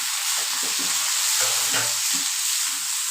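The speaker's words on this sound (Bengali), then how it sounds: "এইবার আমাদের এই মটরটা ভালো করে এইভাবে কষিয়ে নেব" Boiled, drained peas are sautéed in a spiced masala for Bengali ghugni, giving a steady close sizzle with soft stirring scrapes and clacks throughout.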